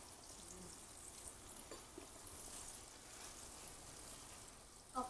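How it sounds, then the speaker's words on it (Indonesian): Floured chicken pieces fry in hot oil with a steady, even sizzle and crackle that carries on throughout without talk. "Oke, ini gorengnya sampai kecoklatan ya"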